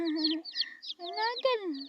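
Baby chicks and chickens make close, high peeping and clucking calls in quick, overlapping bursts. A voice-like lower sound runs underneath.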